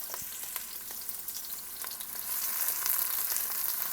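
Onions frying in a pan over medium-high heat, a soft continuous sizzle with scattered pops and crackles that grows slightly louder partway through.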